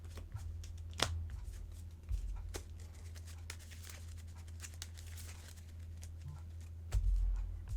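Soft, sparse riffling and papery flicks come from a deck of Yu-Gi-Oh! trading cards being shuffled, faint and close over a low steady hum, with a few louder snaps.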